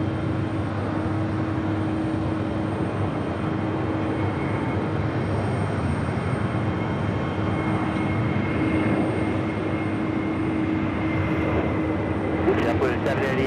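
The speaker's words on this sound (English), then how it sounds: "We got an Aer Lingus A330-300 now rolling down 4 left." An Aer Lingus Airbus A330-300 rolls down runway 4 left at JFK with a steady, distant engine roar and hum, while a voice speaks over it.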